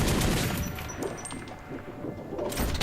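A chain shotgun firing in Metro Last Light: a loud blast at the start, then a run of sharp rattling shots and impacts, with a further burst near the end.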